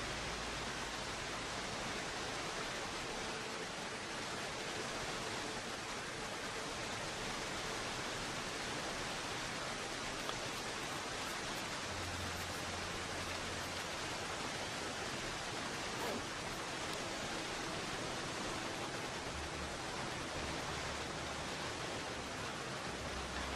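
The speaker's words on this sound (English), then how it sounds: "Another nice waterfall." A waterfall in The Long Dark survival game pours as a steady, dense broadband rush of water, constant and fairly faint throughout, with no talking over it.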